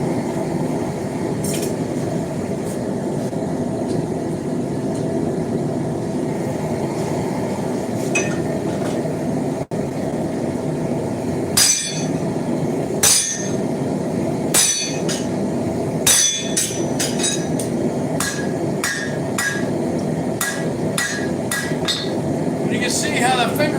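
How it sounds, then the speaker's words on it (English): Repeated hammer blows ring out as a horseshoe is forged into a knife on an anvil, shaping a finger well over the hardy hole with a slightly larger hammer; sharp, spaced metallic strikes over a steady background hum. "When I do, I'm going to use a slightly larger hammer."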